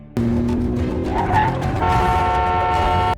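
Cars race in an action-film car chase, with loud roaring engines, a screech of tyres and a honking horn packed into a few seconds.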